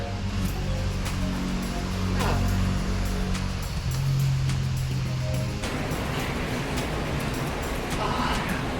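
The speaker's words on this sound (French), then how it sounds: "Bon, la cascade effectivement est pas mal." Water rushes and splashes steadily inside a cave in northern Vietnam, a loud continuous roar throughout, with people talking over it at times.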